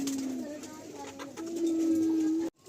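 Pigeons coo in a full loft of pairs kept for sale, their low, steady calls running close and fairly loud for over two seconds before a brief drop, with some faint background murmur.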